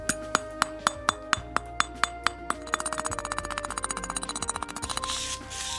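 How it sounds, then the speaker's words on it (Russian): Sharp metallic taps ring out one by one at a steady pace as flux is knocked off a welding electrode, then speed into a rapid clinking rattle, close and clear. "Оббиваем с электрода флюс."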